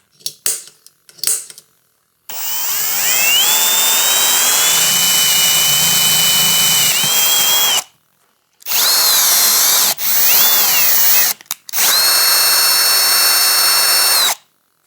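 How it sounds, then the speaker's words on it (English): A power drill whines at high pitch in several long bursts, its tone bending as it bites into a metal grab bar on a Yamaha TRI-Z 250, with short pauses between runs. "I'm just gonna drill and mount straight to the grab bar like that"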